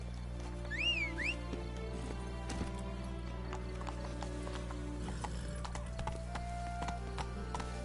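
Geralt's horse Roach in Witcher 3 clip-clops along with steady hoofbeats and a brief whinny near the start, set over a constant low game hum and ambient music.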